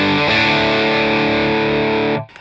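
A guitar run through the Lancaster Audio Nobels ODR-1 overdrive plugin at lowered voltage rings out as one loud saturated, buzzy sustained chord that holds steady and then cuts off abruptly.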